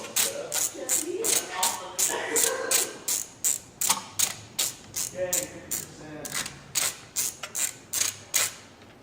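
A ratchet clicks in quick repeated strokes while removing the carb boot on an old Yamaha 350 motorcycle, near and crisp, in a steady rhythm of sharp clicks, with faint shuffling under it.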